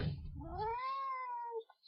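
A cat gives a single drawn-out, rising and falling meow close by, after some brief rustling handling noise, then falls quiet.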